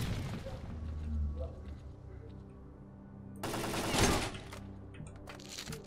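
A grenade explosion in S.T.A.L.K.E.R.: Call of Pripyat bursts out with a loud crackling blast midway, among gunfire and game noise, with a voice talking around it.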